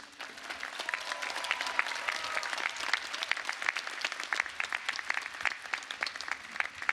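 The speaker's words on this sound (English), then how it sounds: "Graduates, please acknowledge with your applause the dedication that faculty and staff have shown you over the years" Graduates at the Cal Poly Spring 2019 commencement applaud faculty and staff, a dense, steady wash of clapping from a large crowd that holds for the whole stretch.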